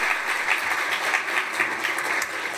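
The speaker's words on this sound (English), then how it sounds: "A big round of applause for our fabulous video." A conference audience at a Northern Ireland tourism event gives a steady, full round of applause, many hands clapping continuously at even loudness across the hall, with no talking.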